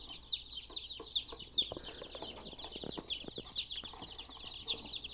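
Chickens cluck and peep steadily in a chicken nursery. The chatter overlaps at moderate volume, with occasional scuffs and wing flutters.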